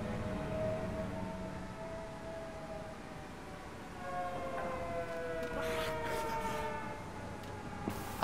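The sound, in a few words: sirens going off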